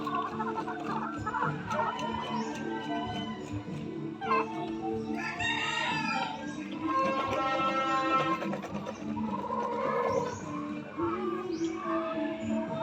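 Several chickens cluck and call continuously, with a rooster crowing partway through; a busy, close flock with overlapping voices.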